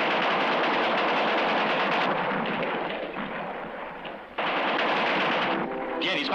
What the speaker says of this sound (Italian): Tieni, spara tu, io vado all'altra mitragliatrice